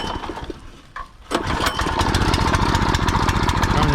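A small gasoline garden tiller engine, set in a strawberry row, sputters briefly and then catches, running loud and steady with a rough, pulsing chug that stays up close.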